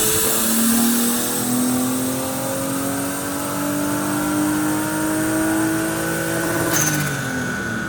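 A turbocharged BMW E36 323 engine revs hard on a dyno, its tone climbing steadily over several seconds before bouncing off the rev limiter near the end, loud and close.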